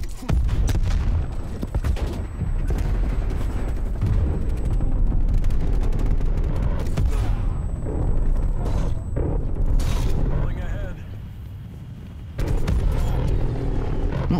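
Repeated booming explosions from a War Machine grenade launcher in Black Ops Cold War, with dense gunfire and blasts layered over a continuous loud game soundscape, one brief quieter stretch near the end.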